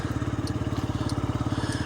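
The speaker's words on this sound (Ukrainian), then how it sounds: "Частенько працює двигунчик." A Yamaha Jog SA39 scooter engine idles close by with a fast, even, throbbing putter, alone and steady for the whole stretch.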